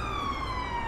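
Ambulance siren holding a steady, loud wailing tone throughout, heard close and continuous as if from inside the vehicle, with no talk over it.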